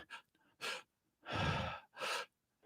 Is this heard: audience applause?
no